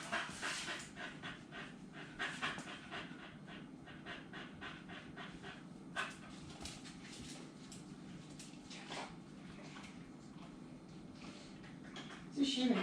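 A dog pants in quick, steady rhythmic bursts through most of the stretch, close and moderately loud, with a person speaking intermittently over it.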